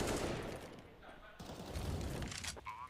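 Rapid pistol gunfire in a Counter-Strike match on the Inferno map, a quick run of sharp cracking shots at moderate distance, heard beneath a caster's excited commentary.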